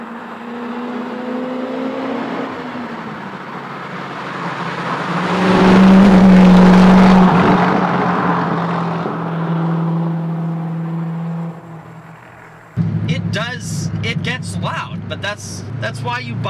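Corvette fitted with an SLP Loudmouth exhaust, engine revving and rising to a loud roaring peak before easing off, heard from inside while driving on country roads; someone talks over the engine near the end.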